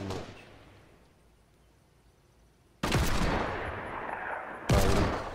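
Two loud, sharp gunshots in Fortnite Battle Royale, each a sudden full-range crack that decays over about two seconds, heard after a quiet stretch with no talking.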